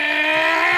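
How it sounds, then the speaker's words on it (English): A Ferrari Italian V8 engine revving, a loud, steady, high-pitched harmonic scream held briefly and close. "That Italian V8 sound."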